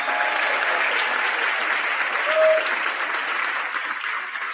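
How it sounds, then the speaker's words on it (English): Sustained audience applause at a 2022 state contest award ceremony, a dense steady wash of clapping from a large crowd lasting throughout, with no talk over it. "can I please get a round of applause for Rebecca Tabor?"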